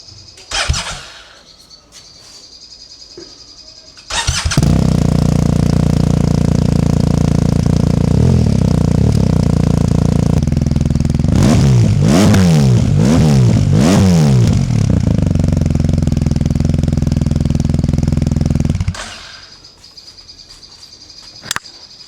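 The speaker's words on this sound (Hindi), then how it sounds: "Now let's turn on the bike and hear the Akrapovic sound." A motorcycle with an Akrapovic exhaust fires up and idles loudly, with several sharp revs in the middle, before shutting off; crickets chirp faintly before and after.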